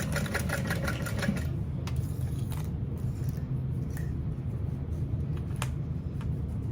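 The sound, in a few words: sewing machine stitching zipper tape seam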